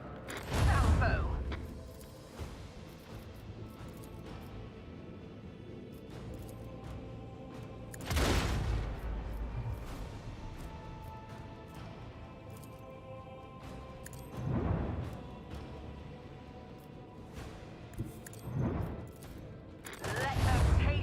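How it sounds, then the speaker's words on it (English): Starship weapons salvos in the Warhammer 40k Rogue Trader video game land as several heavy booming bursts spaced several seconds apart, set over a low mechanical hum. "Fire at will. Torpedoes away."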